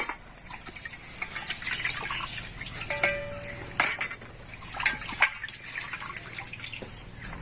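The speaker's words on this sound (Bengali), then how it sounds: "আরও একবার ধুয়ে আমি এখানে তুলে নিচ্ছি থালাতে আর জলটাকে খুব ভালো করে চিপে নেব" Duck meat being rinsed in water and squeezed out over a plate: wet splashes and drips mixed with light clinks of dishes, steady and close throughout.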